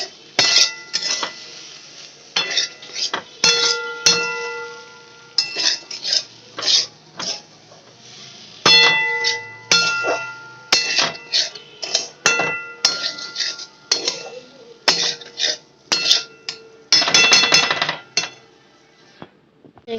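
A metal utensil scraping and knocking against a pan while sweet is stirred into cooking food, irregular clinks and scrapes repeating steadily, close and clear with no voices.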